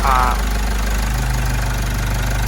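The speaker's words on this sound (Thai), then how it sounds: "นี่ฟังเสียงเครื่องนะ รอบเครื่องเดินเบา ก็ยังปกติดีนะครับ" A diesel pickup engine, an Isuzu MU-X with the EGR blocked off, idles close by with a steady low, knocking rumble and even rhythm, with no voices over it.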